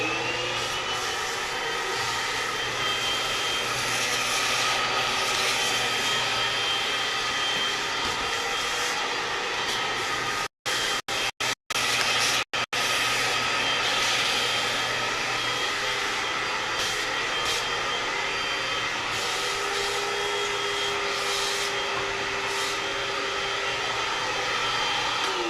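A vacuum cleaner drones loudly and continuously while a pool table is being set up, with a few brief dropouts midway and no talking over it.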